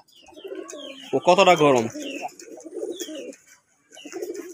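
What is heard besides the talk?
male pigeon cooing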